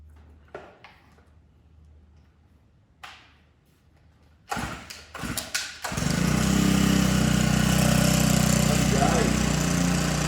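Makita four-stroke brush cutter engine started after a repair: a few short bursts and sputters, then the engine catches and runs steadily and loudly up close, holding a continuous drone to the end.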